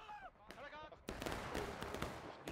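Musket volley from a Civil War battle at Dunker Church in War of Rights, a short burst of crackling shots erupting loud after a brief stretch of voices, then continuing as scattered reports.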